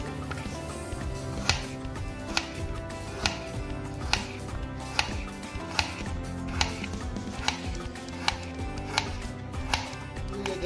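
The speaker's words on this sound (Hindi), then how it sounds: "तो अब हम सेब के भी छोटे छोटे पीस करेंगे।" A knife chopping apple into small pieces on a board, sharp regular knocks about once every second, close and clear over faint background music with no talk.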